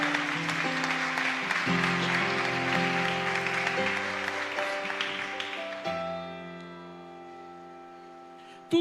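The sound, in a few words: congregation applause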